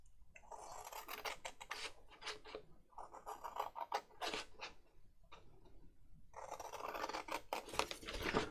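Scissors snip through paper while a tag is cut out by hand, giving bursts of close, crisp cutting and rasping in uneven runs separated by short pauses, with no speech.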